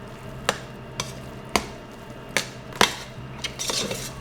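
A utensil works butter into thick mashed potatoes in a pot, producing spaced, fairly regular knocks and scrapes against the metal over a low background hum, with no speech.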